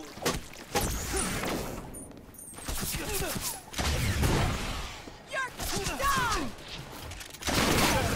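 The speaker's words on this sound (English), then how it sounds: "And of course you get shot at immediately" Enemy gunfire in the video game Sunset Overdrive, dense bursts of shots and impacts packed with whooshes and crashes, loud and continuous across the clip in a chaotic firefight.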